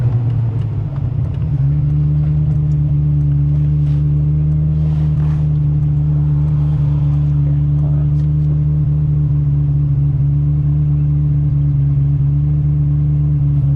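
A Ferrari 355 engine idles steadily up close after a brief blip at the start, settling into a loud, even, low rumble with a constant drone and no talking.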